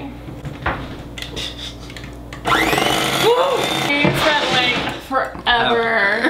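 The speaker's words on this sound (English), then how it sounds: "So we're just gonna whisk or blend this until we get stiff white peaks." A blender whips meringue toward stiff white peaks: a loud, steady motor whine with shifting pitch that starts a few seconds in and runs to the end, after a quieter stretch where people talk over kitchen background.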